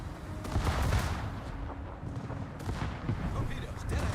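In a naval battle video game, warship secondary guns fire a dense, continuous rumble of overlapping booms and blasts, with a voice talking over the gunfire throughout.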